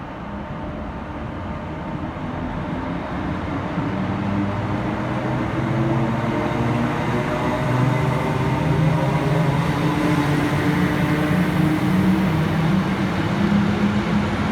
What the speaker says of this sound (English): Next out two departures 769 448, running 16 minutes late with the 1051 Northern service from Southport through to Staley Bridge.